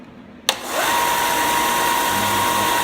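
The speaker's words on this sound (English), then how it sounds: "this will let me turn on the belt sander" A belt sander for finishing wooden cutting boards switches on with a sharp click, then spins up into a steady loud whir with a faint whine that holds evenly to the end.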